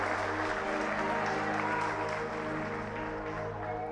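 A church congregation applauds during a sermon, a steady wash of clapping over a droning sustained musical backdrop that holds at an even level throughout.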